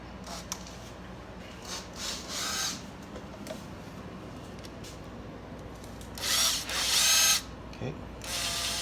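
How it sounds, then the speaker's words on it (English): Close ratcheting and scraping as a tool loosens the intake manifold clamp on a Suzuki Ozark 250 ATV during carburetor removal. Short quiet clicks come first, then a louder burst of rubbing near the end. "Now we need to loosen the clamp on the intake manifold"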